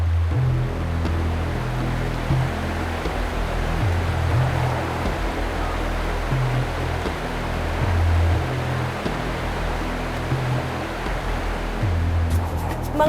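River water rushes continuously during a mountain trek past a series of rivers, a loud, steady broadband roar with no voices over it.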